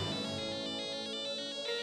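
A mobile phone ringtone plays a steady melodic electronic tone throughout the short moment, fairly clear and continuous with no talking.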